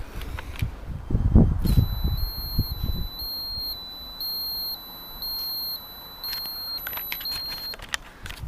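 Rapid high-pitched electronic warning beeps from a camera flash pulse in an irregular on-off pattern over low background rumble and muffled knocking, with a faint voice near the start.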